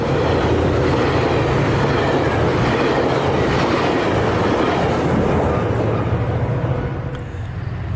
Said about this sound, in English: The coaster set with 2 locomotives makes one more appearance on train 665 as it heads into the fading evening light